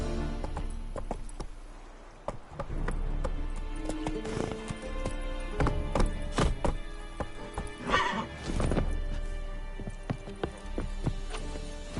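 A horse in The Witcher 3 gallops with rapid, rhythmic hoofbeats and lets out a loud neigh partway through, all close and prominent over game ambience.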